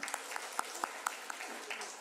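Scattered hand claps from a small church congregation, light and uneven, a few sharper claps standing out over a murmuring room.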